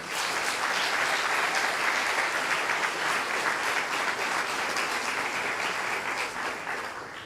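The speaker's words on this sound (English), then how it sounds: "let's give them another round of applause" An audience at a high school sports awards ceremony claps steadily in a sustained round of applause, moderately loud and even, fading a little near the end.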